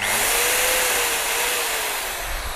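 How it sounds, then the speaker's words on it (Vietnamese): Bosch GSB20-2RE impact drill running in normal drilling mode, a loud continuous high whine held steady for a couple of seconds with no talk over it. "Đây là chế độ khoan bình thường, nó chưa có đục ha"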